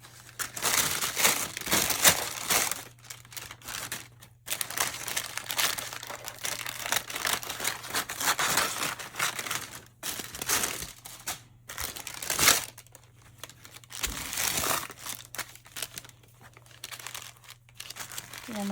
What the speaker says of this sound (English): parchment paper.